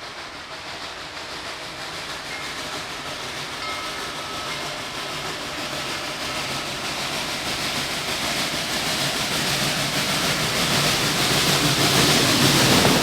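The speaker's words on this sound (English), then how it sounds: "At Martindale, the 4501's engineer has the throttle wide open as she stomps up the grade." Southern Railway 4501 steam locomotive climbing a grade at Martindale with the throttle wide open, a dense, steady roar and hiss that swells gradually louder as it nears, with no voices.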